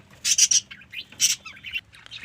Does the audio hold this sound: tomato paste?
no